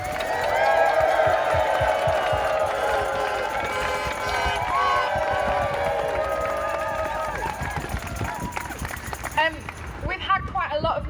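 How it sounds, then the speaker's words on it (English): A rally crowd of university union members cheers, screams and claps loudly, with stamping feet thudding underneath. The din swells for several seconds and then breaks into scattered claps and shouts. "give yourselves a massive cheer"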